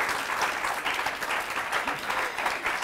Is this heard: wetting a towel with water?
no